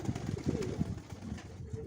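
Low, throaty pigeon coos repeat in soft rolling bursts, fairly close, with a faint background hum.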